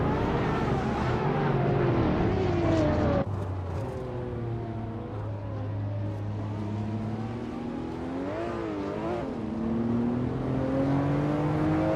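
Racing cars in a video game race, a high engine whine that climbs and dips through gear changes, continuous and fairly close, with a brief drop in intensity early on before the revving resumes.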